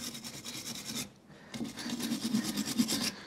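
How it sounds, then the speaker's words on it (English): Wire brush scrubbing a car track rod end, a steady raspy scratching in close rapid strokes, briefly pausing before resuming more intensely, with no speech. "I might even get the wire brush on it"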